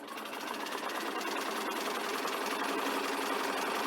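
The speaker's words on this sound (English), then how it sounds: "And I'm sewing all the way down" A sewing machine runs steadily as it stitches a front placket band with right sides together at a 5/8 seam allowance, producing a continuous, close, even mechanical whir with no pauses.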